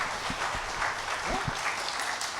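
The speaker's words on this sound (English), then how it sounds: "Round of applause." A seminar audience gives a short round of applause, soft and somewhat distant, with scattered claps and faint voices.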